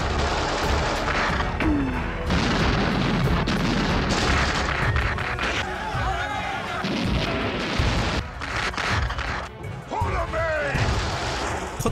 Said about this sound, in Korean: 드디어 폭발음과 함께 몰려온 독일군들은 쿠쿠하나 국민들에게 무자비한 공격을 펴붓기 시작합니다.